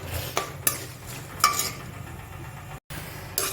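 Puffed rice stirred into a hot tempering in a pan gives soft, steady scraping with a few sharp clinks of the spoon against metal over a low sizzle.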